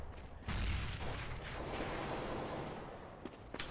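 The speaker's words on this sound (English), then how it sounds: "Throwing grenade." A grenade explodes in Counter-Strike: Global Offensive, a sudden heavy blast followed by a long rumbling decay with faint crackles near the end.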